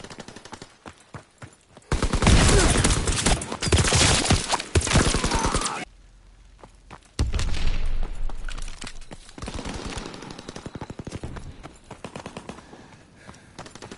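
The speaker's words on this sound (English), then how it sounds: "Taking heavy fire." Heavy gunfire in a WW2 video game battle: dense, rapid machine-gun bursts and rifle shots rattle loudly in long volleys, dropping out briefly before resuming with steady staccato firing.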